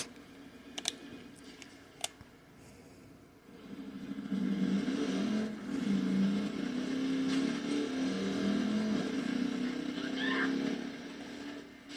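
A motorcycle engine in Watch Dogs 2 starts up after a few sharp clicks, then revs and idles with a rising, wavering drone that holds for several seconds.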